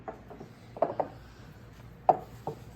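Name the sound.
kneading bread dough by hand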